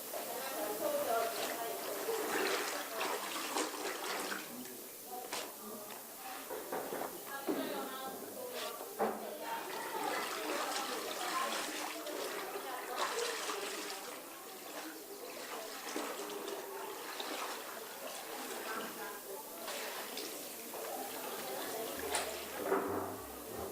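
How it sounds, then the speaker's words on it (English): Cloth is rinsed in plain water to wash out caustic soda, with continuous sloshing, splashing and dripping throughout and occasional soft thuds as the fabric is worked, while a person talks over it. "I'm going to rinse it in this normal water"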